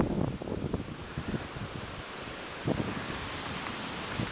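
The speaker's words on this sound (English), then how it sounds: "And here comes the wind again." Wind gusts outdoors at a lakeside camp before a thunderstorm, a steady rushing roar with buffeting bursts against the microphone, fairly faint and without talk.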